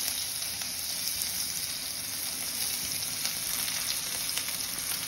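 Chopped onions hit hot oil already seasoned with asafoetida and fennel seeds, giving a steady, dense sizzle that holds evenly at close range with no voices over it.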